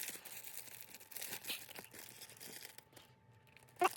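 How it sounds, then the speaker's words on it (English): Thin plastic wrap crinkles and tears as it is peeled off a ball-jointed doll's head, a quiet, close, irregular rustle with a sharper snap near the end. "I want to get the plastic off her head."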